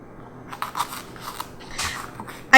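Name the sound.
knife cutting jalapeno peppers down the middle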